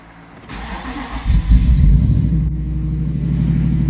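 A Jeep Commander with a 6.4 engine cranks briefly and catches, settling into a loud, steady idle rumble close by, with no voices.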